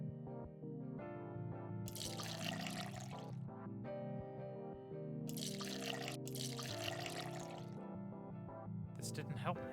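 Liquid pours onto the floor in a puzzle video game, heard as several separate splashing, gushing bursts over sustained tonal game music, with someone talking in the background.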